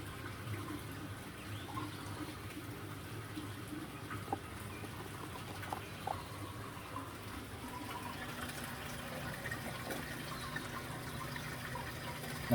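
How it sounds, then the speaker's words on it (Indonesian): Water running from the tap of an automatic aquarium filling setup with a vertical autovalve, a soft, steady low gush and trickle that continues evenly throughout with faint clicks and no talking. "Nanti airnya akan keluar dari keran yang kita lihat."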